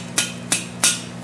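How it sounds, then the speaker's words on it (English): Three sharp metallic hammer blows from a blacksmith striking hot metal held over the edge of an anvil, evenly spaced and close, with a faint steady hum beneath. "take my hammer,"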